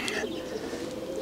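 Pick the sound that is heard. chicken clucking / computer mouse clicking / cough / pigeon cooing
pigeon cooing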